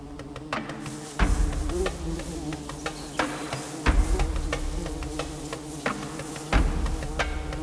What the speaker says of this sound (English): The female bees work tirelessly,